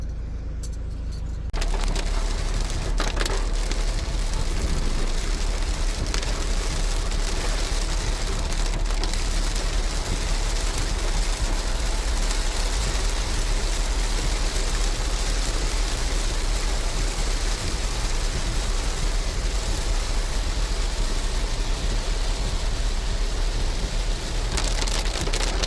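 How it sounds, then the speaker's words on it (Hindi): Heavy monsoon rain pours steadily on the road to Guwahati, a dense, continuous roar of drops drumming on a vehicle, loud and unbroken for the whole stretch with no voices. "गुवाहाटी के रास्ता में कितना ज़्यादा बारिश हो रहा है।"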